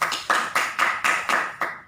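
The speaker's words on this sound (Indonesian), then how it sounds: "beri tepuk tangan dulu untuk kelompok 1" Seven evenly spaced hand claps for a student group's presentation in a classroom, crisp and close, in a steady rhythm lasting under two seconds.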